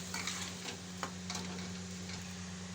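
Water poured into a pan of fried spices, turmeric, salt, coriander and cumin powder, for a Bengali fish curry, giving a steady close sizzle with light stirring ticks throughout and a low constant hum beneath.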